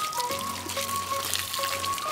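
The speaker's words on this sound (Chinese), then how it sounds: "美滋滋的洗起了凉水澡" Cool mountain spring water, channelled through hollowed bamboo, pours and splashes during an outdoor bath in the wild, a close, continuous trickling patter with a few faint tonal whistles in the background.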